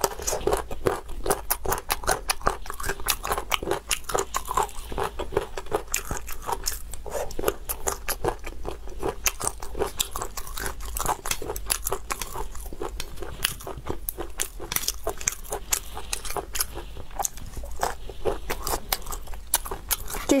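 Close, crisp crunching and biting on meaty chicken triangle bones, the cartilage cracking in a dense, steady stream of chews for about twenty seconds with no talking.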